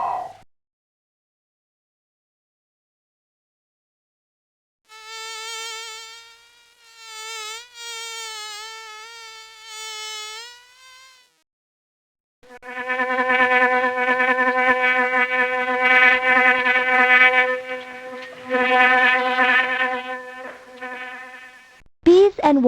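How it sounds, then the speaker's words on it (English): Buzzing of bees and wasps in the Microsoft Explorapedia nature program, one thin whining buzz that wavers in pitch, then after a pause a louder, lower sustained drone lasting several seconds, clean and isolated against silence. "The buzz of a bee or wasp is really its wings moving very fast."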